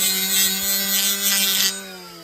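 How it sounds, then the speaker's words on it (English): A small handheld sander grinds against an aluminium spacer for an RC car shell, a loud buzzing whir with a rough rubbing texture that cuts off abruptly near the end, leaving a quieter motor hum. "Take a little sander here."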